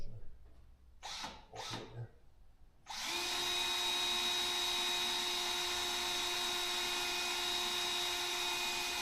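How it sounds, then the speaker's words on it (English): Power drill boring through white sheet metal while installing autosteer on farm equipment: after a couple of short voices, the drill starts and holds a loud, steady, high whine with a constant pitch. "Are you drilling just through the white metal now"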